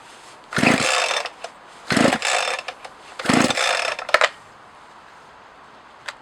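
A Partner 20 chainsaw engine, an old two-stroke with a hard-to-find fuel tank cap, sputtering through three short revving bursts about a second apart, then a brief rattle and quiet, close and loud.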